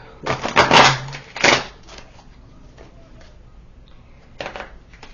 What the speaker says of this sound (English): Let's give it a couple of good shuffles.